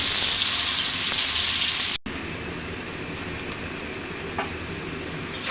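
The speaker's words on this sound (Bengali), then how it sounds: "আমার পেঁয়াজ ভাজি হয়ে গেছে" Onions fry in hot oil in a pan, giving a dense, steady sizzle that drops out briefly with a cut and then carries on a little softer, close and without talk.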